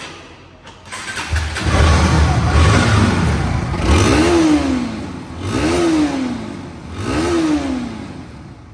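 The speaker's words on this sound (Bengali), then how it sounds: "এখন এই বাইকটি সাউন্ড কোয়ালিটি শুনুন" A Bajaj Pulsar NS 160 motorcycle engine starts and idles close by, then is revved three times in a rhythmic pattern, each rev climbing and falling back, loud with no talk.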